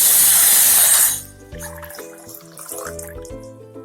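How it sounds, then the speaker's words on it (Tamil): Water poured from a small vessel into a cooking pot, a loud rushing splash for about a second that quickly fades into faint dripping. "நான் ஒரு சொம்பு தண்ணி ஊத்துறேங்க."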